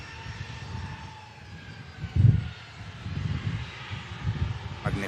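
Airliner on flight Echo Kilo 18 taking off from Manchester Airport bound for Dubai International: a steady low engine rumble that swells around the middle and stays strong, heard from a distance outdoors with no talk.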